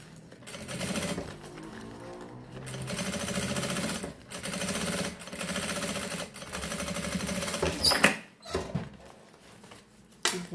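A sewing machine runs a safety seam along the edge of a fanny pack in rapid mechanical bursts, pausing briefly between runs, with a quick clack of handling near the end; moderately quiet and close.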